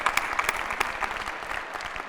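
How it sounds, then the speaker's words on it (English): A commencement crowd at UNC-Chapel Hill breaks into applause, with brisk, dense clapping from a large audience, close and steady for a couple of seconds. "Yes, that does deserve applause."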